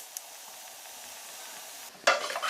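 Leavened flatbread pan-frying in oil, with a quiet steady sizzle that swells into a louder crackling burst near the end as the bread is turned or pressed, no voices.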